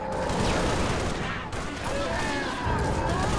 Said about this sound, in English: let's shoot some aliens